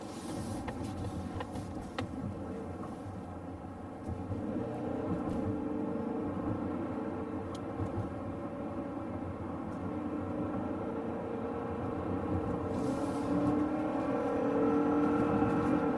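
A Mazda CX-50 pulls hard through the gears, its engine note a steady low drone with road and wind roar building as speed climbs, continuous and close from inside the cabin.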